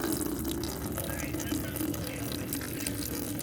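Water rushes steadily from a freshly opened cold supply valve for a toilet in a master bathroom during a DIY remodel with PEX plumbing, a close, constant hissing flow.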